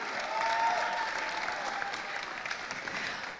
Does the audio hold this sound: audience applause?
yes